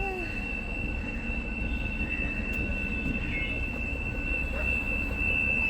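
A moving train rolls steadily with a constant rumble and a sustained high wheel squeal, fairly loud and close, with no talk over it.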